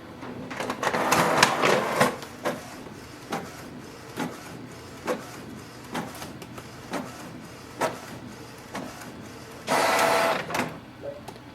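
A Canon PIXMA G3070 inkjet printer prints a nozzle check sheet: a whirring feed, then repeated short mechanical shuttling clicks at steady intervals, ending with a louder grinding pass.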